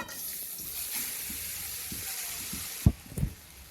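Soft steady sizzling of grated raw mango frying in ghee, with a few clinks and stirring scrapes near the end.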